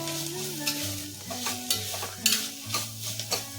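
Ingredients frying in a pot for sweet corn coconut milk biryani, a soft sizzle broken by spoon stirs and scrapes, close up, under sustained background music with no speech.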